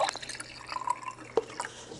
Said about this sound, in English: just gonna dump in our water.